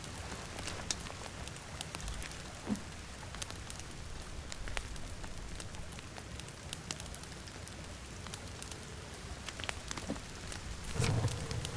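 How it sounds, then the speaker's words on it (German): Steady rain in the survival video game The Forest, a continuous dense patter on surfaces near a campfire, with scattered louder drops and faint crackle throughout. "Der Regen macht dir mein Feuer aus."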